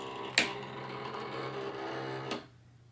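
A vinyl cutting machine loads its cutting mat, giving a steady mechanical whir of rollers and motor between two sharp clicks, then falling silent.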